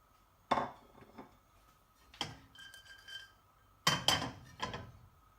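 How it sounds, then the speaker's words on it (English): Blackberries with star anise and a piece of nutmeg are tipped into a pan for Christmas blackberry brandy, producing a few close, sharp clattering knocks separated by short pauses. "we're going to empty them into the pan"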